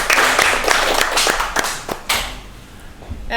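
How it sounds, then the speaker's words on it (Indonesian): Hands clapping on a podcast in Maluku, a close, loud flurry of claps from a small group that fades out after about two seconds. "Tepuk tangan dulu dong."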